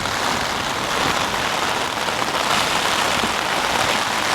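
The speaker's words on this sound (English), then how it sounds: "The rain hit me fast. And it's a sideways rain" Heavy sideways rain in Thailand pours down in a dense, constant roar with no letup, close and loud.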